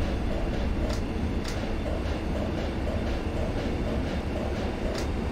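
A train in the Zusi 3 simulator accelerates on the Bestwig–Kassel route near Salzkotten and Paderborn, giving a steady, dense rumble with faint periodic clicks, evenly loud throughout with no talking.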